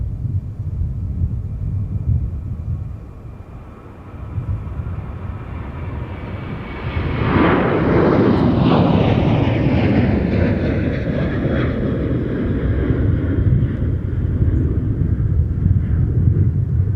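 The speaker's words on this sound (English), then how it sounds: "So currently in view is Skywest 3792 from Chicago Midway with an Embraer 175 LR." A SkyWest Embraer 175 LR jet takes off at MSP airport on a windy day, its engines swelling from a distant rumble into a loud roaring whine that peaks midway and then stays heavy as it climbs away.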